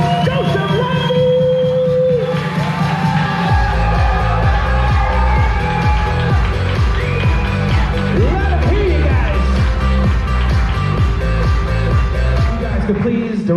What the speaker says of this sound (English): We're not bringing these to it unless you guys are making a lot of noise, so start clapping those hands